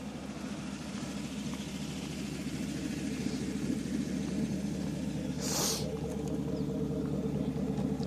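A 2014 Chevrolet Silverado with a custom center straight-pipe exhaust idles steadily with a deep, continuous low rumble, with one brief hissing burst partway through.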